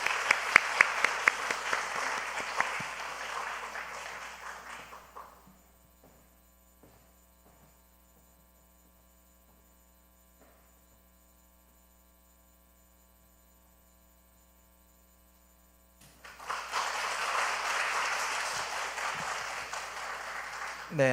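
Church congregation clapping at a new-members graduation and baptism service, a burst of applause that stops abruptly, leaving low hum and near silence, then another round of clapping begins.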